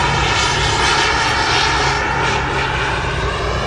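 A giant-scale RC F-14 model jet flies at the Joe Nall fly-in. Its engine gives a loud, steady roar with a rushing, airy edge, sustained and unbroken throughout.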